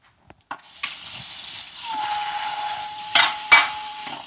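Sauce spread onto a hot cauliflower pizza crust, a few sharp taps and knocks followed by a steady hissing spread and two louder scraping bursts near the end.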